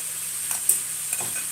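Chopped onions being stirred in a hot pan, with a faint sizzle underneath and a couple of soft, brief scrapes of the spoon, all quiet and close.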